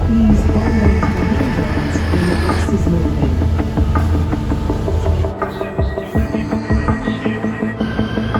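Southeastern train bound for Dartford at a UK station, a steady loud rumble with rhythmic clattering of wheels and brief metallic squeals, easing toward the end as the cars roll past close by, with no talk.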